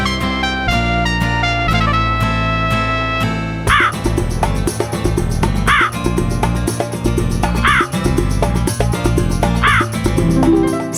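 A crow caws in a children's story, with several loud, harsh caws at regular intervals over bright background music.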